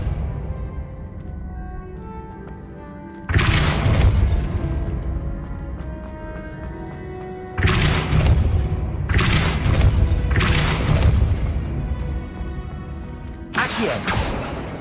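Spells cast in the video game Hogwarts Legacy, including the Depulso force spell, heard as four loud booming blasts with crashing tails, separated by quieter stretches of game ambience.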